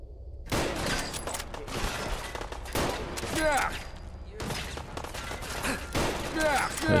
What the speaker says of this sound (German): Der Schuss war top.